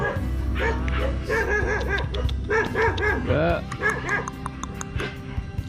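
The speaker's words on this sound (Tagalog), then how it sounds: "Tumataw yung aso." A dog barks repeatedly, mixing yips and whimpering whines, close by and loud, with some voices in the background.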